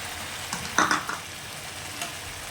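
Sour yogurt seasoned with salt and chilli is added to a pan and stirred, giving a short burst of sizzle and scraping around the middle, then settling back to a low frying hiss.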